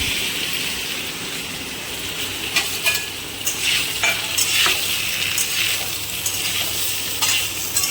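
Fried vegetables for a bitter-gourd chorchori sizzle in a pan with ginger-chili paste, stirred with repeated close scrapes and clinks over a continuous frying crackle.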